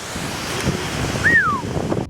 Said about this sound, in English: huge, big, beautiful waterfall